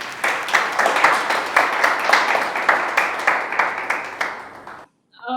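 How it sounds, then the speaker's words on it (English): An audience at the Spiritz Selection Awards 2020 ceremony claps steadily for a beer brand's packaging silver award. The dense, rhythmic applause fills the room for about five seconds, then stops abruptly, leaving near silence. "Give a round of applause for them, please."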